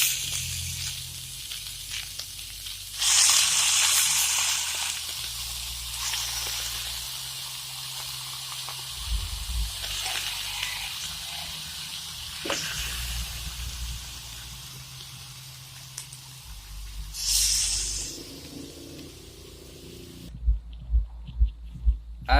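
Pork added to a pan of sautéing garlic and onion hisses in a steady broadband sizzle, flaring louder in brief bursts with occasional clinks near the end; no one speaks.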